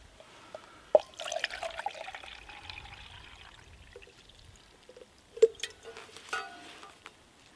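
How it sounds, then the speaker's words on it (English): Water is poured into a metal canteen cup from a canteen cup cook set, with a few splashy pours and drips in separate bursts and quiet gaps between them, heard close up. "Put our water in there first."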